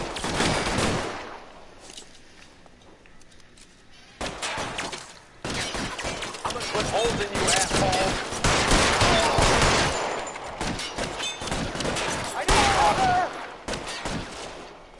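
Rapid bursts of video game gunfire fired from cover, loud and dense, running through most of the stretch with short pauses, while a voice talks over parts of it.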